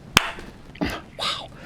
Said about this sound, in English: I had this turned up a little too loud for my clap.